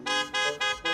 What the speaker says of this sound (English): except for the blaring car horns outside